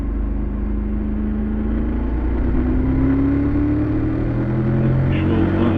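A 2022 Triumph Tiger 1200 motorcycle engine drones while riding, a loud continuous hum that rises slowly in pitch as the bike gathers speed, with steady wind rush throughout.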